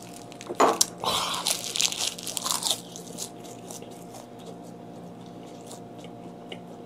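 Dried Pohang saury gwamegi is chewed close to the mic, with a few loud crunchy bites early on followed by softer, quieter chewing.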